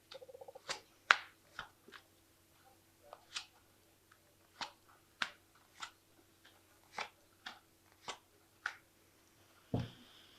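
Tarot cards being shuffled and drawn in a quiet room, a sequence of about a dozen crisp, short card flicks and snaps at an irregular rhythm, close and soft, ending with a louder rustle.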